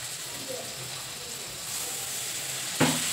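Eggs braise with water in a pan for egg curry, giving a steady soft sizzle and hiss that swells in a sudden sharper burst near the end.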